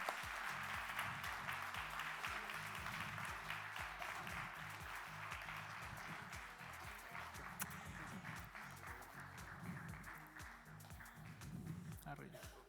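Audience applause at a closing panel session, a dense continuous patter of clapping that holds steady throughout, with a low rumbling of voices or movement underneath, heard at a distance and quiet.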